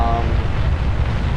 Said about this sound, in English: the rocket is going to burn upwards until it runs out of solid fuel